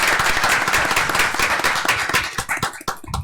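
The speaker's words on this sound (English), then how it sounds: "let's give them a round of applause" A brief round of applause from a city commission meeting audience for children, dense clapping that thins into scattered individual claps as it fades.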